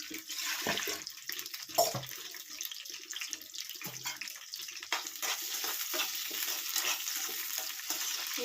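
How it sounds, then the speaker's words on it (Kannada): Okra frying in oil in a pan gives a steady, dense sizzle and crackle that runs without a break, with a few louder spits and stirring knocks near the start. "ಎಣ್ಣೆ ಫ್ರೈ ಮಾಡೋದ್ರಿಂದ ಇದು ಲೋಳೆ ಥರ ಬರಲ್ಲ ನೀಟಾಗಿರುತ್ತೆ"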